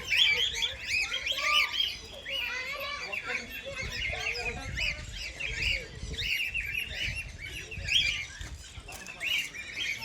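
Many birds in a zoo aviary chirp and call in dense, overlapping bursts, fairly close and continuous, with faint voices in the background.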